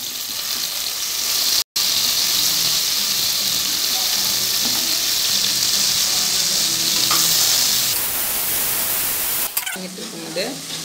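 Onions and tomatoes sautéing in a pan for chicken biryani, a loud, steady hiss of frying that runs unbroken, briefly cuts out, then fades near the end into softer clatter.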